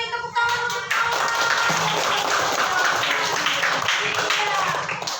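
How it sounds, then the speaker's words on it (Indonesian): Classmates in a classroom clap for a fellow student, a steady burst of applause lasting a few seconds and filling the room at close range. "Baik, tepuk tangan untuk kawan."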